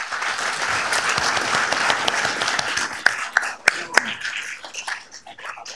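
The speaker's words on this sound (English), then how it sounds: "So let's give them a round of applause." Audience applause at a city council meeting, dense steady clapping from a room full of people that thins into scattered individual claps toward the end.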